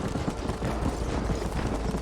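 Horse hooves gallop in a steady, fast clip-clop across a dense in-game soundscape in Red Dead Redemption, loud and continuous throughout.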